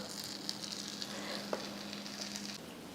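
Bread set on a hot buttered dosa tawa over a low flame, giving a faint, even sizzle with a few light taps and crackles, close by and quiet, no one speaking.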